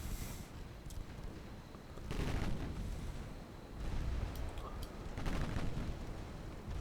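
Seven-inch naval guns fire in a video game naval battle. Three heavy, booming broadside roars rise and fade in turn over a constant rumbling background, loud and close, with no voices.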